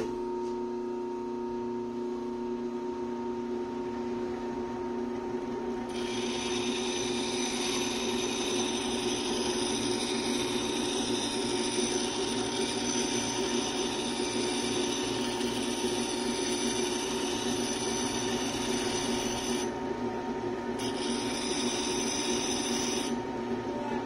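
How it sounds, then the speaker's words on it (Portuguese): A bench grinding wheel runs steadily while a steel cuticle nipper is finished against it, a constant motor whine with bright high grinding hiss starting partway in and briefly dropping out near the end. "Aí eu vou dar o acabamento aqui no rebolo."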